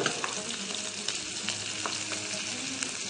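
Onions fry in oil in a pan for a minced-meat stuffing, a busy up-close sizzle with light stirring scrapes and ticks throughout, no voices.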